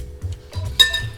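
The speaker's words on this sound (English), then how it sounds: "we are going to whisk all of the dry ingredients together" Whisk clinking against a bowl while dry cake ingredients are mixed for a chocolate crazy cake, a few quick light taps and one sharper clink, close and brief.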